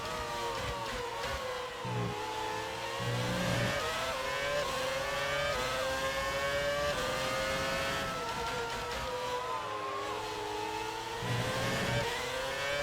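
F1 2019 race car engine from the video game, revving high and shifting up and down through gears on track, a continuous loud whine with pitch sweeps and brief dips during a lap of overtaking.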